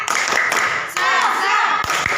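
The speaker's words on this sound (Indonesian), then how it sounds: "Tepuk semangat." Students in an Indonesian classroom give a short spirited group clap during a lesson, with sharp hand-claps scattered among loud, busy classroom noise and voices, all close by.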